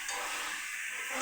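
Tomato and meat sautéing in a pan give a steady, soft hiss of frying that holds evenly throughout, with no talk over it.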